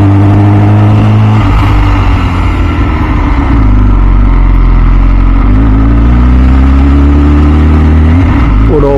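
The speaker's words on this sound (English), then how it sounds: "there's definitely a sign of little pops when you're decelerating" A loud, close MV Agusta F4 CC motorcycle engine rumbles and revs up and down, with rough low burbling and little exhaust pops as it decelerates between bursts of throttle.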